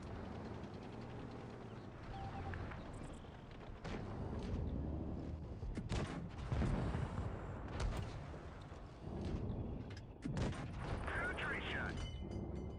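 A heavy tank gun fires in a World of Tanks-style game at tier seven, sending several deep booms through the clip amid rumbling engine and battle noise, with someone talking in between.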